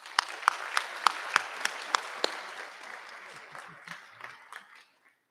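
Applause at a high school senior recognition ceremony for Rotary scholars, a few sharp, loud individual claps ringing out in a spacious hall, then scattered softer clapping with murmured talk before it fades to silence.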